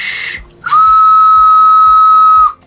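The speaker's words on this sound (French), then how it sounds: "il suffit d'appuyer avec le doigt ici et ça siffle" A vintage retro toy whistle, pressed with a finger, gives one loud, steady high whistle lasting about two seconds after a short burst of hiss.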